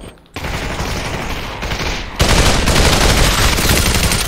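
Sustained machine gun fire in an online multiplayer shooter video game, loud and close, with dense rapid bursts that grow heavier partway through.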